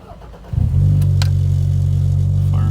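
A Toyota Celica GT4 ST185 with ignition coil errors cranks briefly and fires up, settling at once into a loud, steady, high idle close by.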